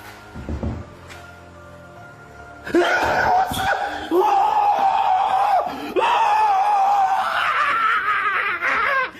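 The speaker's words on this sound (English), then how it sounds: "he lets out a panicked yell" A man cries out in panic, a loud, strained, sustained yell that wavers in pitch and carries on for several seconds after a brief burst of noise and thumps.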